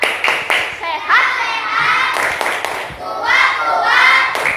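Children in a classroom clap along in a rhythmic chant, hand claps mixed with young voices calling out in time, fairly close and lively throughout.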